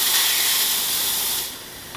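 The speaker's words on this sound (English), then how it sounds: "Nice strong steam." A serviced La Pavoni espresso machine's steam wand blasts a strong, loud, steady hiss close by for over a second, then tapers off quickly.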